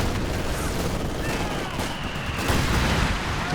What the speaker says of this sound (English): Mortar dropping its incendiary here, then mortar half track.